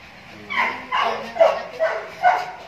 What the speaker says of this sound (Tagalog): Ano aso yan? Anong aso yan?